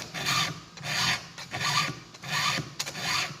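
A file rasps steadily across a chainsaw chain's cutters, four even strokes in a regular rhythm with short gaps between them, close and clear with no talking.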